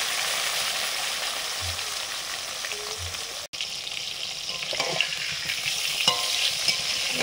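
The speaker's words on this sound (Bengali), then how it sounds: "এবারে বেগুন ভাজা হচ্ছে" Eggplant slices sizzle in hot oil, a continuous close frying hiss with a few scraping stirs and one brief cut partway through.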